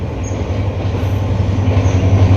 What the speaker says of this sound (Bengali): এই যে আমাদের মোহনগঞ্জ হইতে কমলাপুরের ট্রেন যাইতেছে